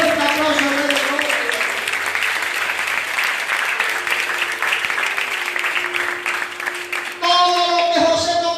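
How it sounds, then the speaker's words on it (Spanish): Loud applause fills a church, a dense, continuous wash of clapping from a congregation over several seconds, with a voice briefly heard over it toward the end. "Ríndele un fuerte aplauso al Rey de Gloria."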